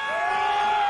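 Congressional crowd of Republicans cheering the president at the State of the Union, a loud dense roar of voices with whoops and sustained shouting throughout.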